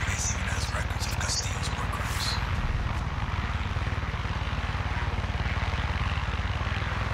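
Helicopter engine and rotor in Far Cry 6, a loud steady throbbing drone with rapid rhythmic blade pulses, continuous and close throughout, with faint game effects near the start.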